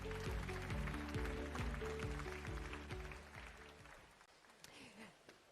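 At a leadership and innovation conference, an audience gives a round of applause over a steady pulsing music beat. The sound is fairly faint and fades toward the end.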